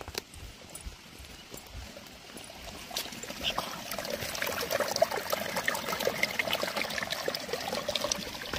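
An outdoor waterfall splashes and trickles steadily on an evening road trip, a continuous close patter of falling water that grows slightly louder and busier as it goes on, with no voices.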